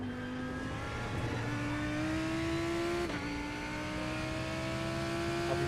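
Race car engine in the iRacing sim at Daytona, a steady high-pitched drone with harmonics that rise gradually as it accelerates, loud and continuous with a brief shift blip midway, no talking.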